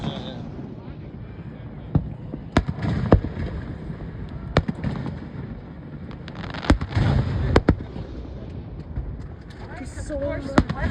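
Fireworks bursting over a large lake, heard as scattered sharp booms and crackles at a moderate distance, several separate pops spread across the stretch with a louder cluster partway through, while people chat and exclaim nearby.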